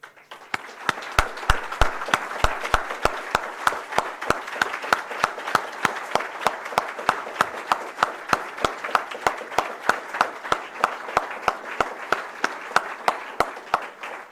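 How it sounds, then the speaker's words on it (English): An audience applauds first responders at a ceremony, with steady, moderately loud clapping that keeps going throughout and sharp individual claps standing out near the microphone. "I'd like to offer you a round of applause if you could."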